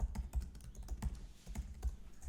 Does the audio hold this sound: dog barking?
no